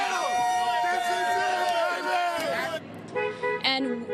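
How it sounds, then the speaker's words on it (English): Car horns blare in a crowded Oakland street on the night of a Warriors championship win, with long sustained honks that break off and return in short toots over a murmur of crowd voices. "You can hear the honking behind me and the cheering"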